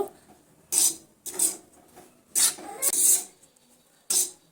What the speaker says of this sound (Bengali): প্রথমে আমি সুজিটা এইভাবে একদম শুকনো করে সুজিটা সুন্দর করে তৈরি করে নেব